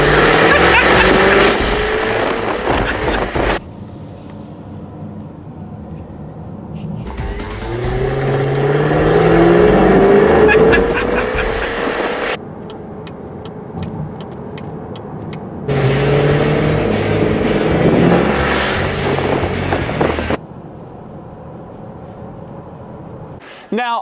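A Jaguar F-Type V8 S sports car drives hard, its V8 engine revving and rising in pitch through gear changes in loud bursts separated by quieter stretches, heard close from the cabin.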